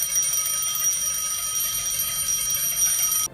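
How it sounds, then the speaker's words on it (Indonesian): Bell ringing in the Hunter x Hunter anime, a sustained bright metallic ringing held steadily for about three seconds before cutting off abruptly. "Terdengar bel pun berbunyi"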